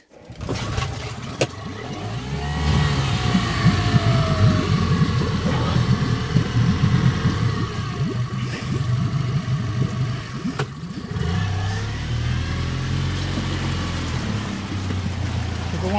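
A small engine, apparently aboard a boat, runs with the choke on at low RPM, giving a continuous rough, rumbling drone with slight rises and dips throughout, close and steady.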